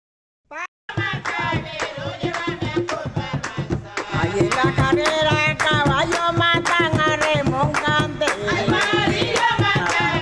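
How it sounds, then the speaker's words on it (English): An audience claps along in a steady rhythm to a live Panamanian song with melody and singing, the sharp hand claps cutting through the music after a brief start. "Everybody has to clap while the song is happening."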